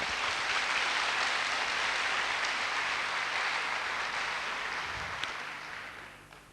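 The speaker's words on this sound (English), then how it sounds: "I think you actually deserve a round of applause for the journey" Audience applause welcoming arrivals at an evening variety program, a steady broad wash of clapping that gradually fades toward the end, with no talk.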